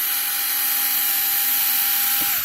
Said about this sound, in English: Drills right through nice and easy.